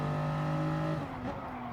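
Gran Turismo Gr.3 Toyota GR Supra race cars launching off the start at the Interlagos Toyota Cup, loud engines revving and then shifting upward together as a pack, with a brief tire squeal partway through.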